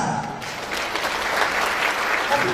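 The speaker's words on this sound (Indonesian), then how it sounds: "Tepuk tangan." An audience claps together at a large Quran completion gathering, a steady wash of applause filling the short moment, fairly distant and even throughout.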